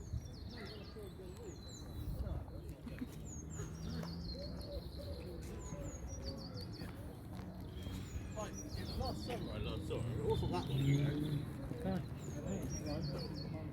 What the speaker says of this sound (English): Little bird having fun.